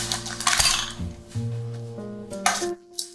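A knife edge scraped around the inside of a metal cake ring to free a freshly baked light-yellow cake layer, giving close metallic clinks and ringing scrapes over about three seconds, with sustained tonal ringing from the metal.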